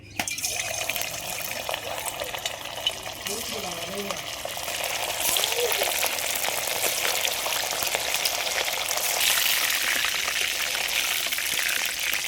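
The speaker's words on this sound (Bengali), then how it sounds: "এবার আমি এই চিকেনটা ভেজে নেবো।" Hot white cooking oil hissing and crackling steadily as chicken fries, growing louder midway, with faint murmuring voices underneath.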